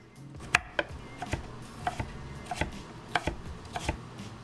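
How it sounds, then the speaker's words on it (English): A knife slices carrot into matchsticks on a cutting board, a quick irregular run of close, crisp taps against the board, each cut distinct over a quiet background. "Lay them flat and slice them into matchstick sizes."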